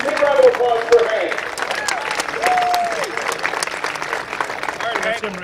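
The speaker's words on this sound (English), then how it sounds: "Big round of applause for Hank." A speedway crowd applauds to honor a retired racer, steady clapping with cheering and voices mixed through it at a moderate distance.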